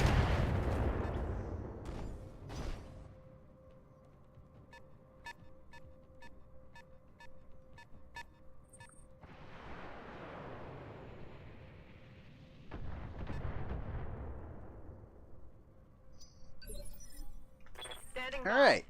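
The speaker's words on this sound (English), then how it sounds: "Oh, indirect fire." Indirect artillery fire in the BattleTech mech game, heavy booming impacts arriving in several waves with rumbling tails and metallic clinks between them, under occasional talk.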